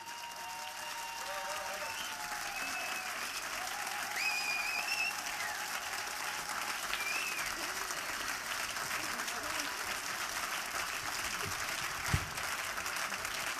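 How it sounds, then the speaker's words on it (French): Concert audience applauding at an outdoor festival, a faint, continuous wash of many hands clapping at a distance, with a few whistles or cheers rising above it. "On peut l'applaudir bien fort, Gérard Pichot."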